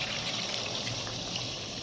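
Water pours steadily into a pan of aloo dum curry after the spiced masala has been fried until the oil separates, a continuous close gushing splash with no talk.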